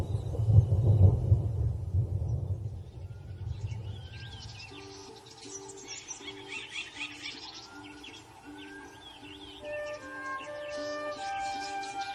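Low thunder rumbles at a distance over the savanna at Tarangire before rain, loud at first then fading, with birds chirping and calling through the rest of the recording.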